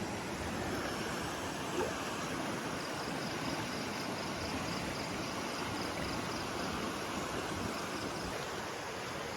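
Steady rushing river water flows continuously with a broad, even roar, close by and without pause; faint high tones ride above the wash. River fed from Lake Singkarak.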